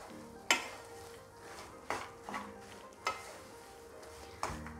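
A spoon stirs crushed walnuts into a melted mixture for walnut burfi. Soft scraping and a faint sizzle are broken by a few sharp clinks against the pan, quiet and close, with no voices.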